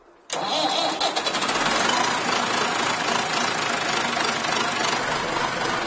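A large farm tractor in a storage shed is started: after a brief silence the engine catches abruptly and settles into a loud, steady, close running roar.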